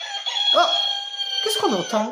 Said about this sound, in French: C'est le cri du coq.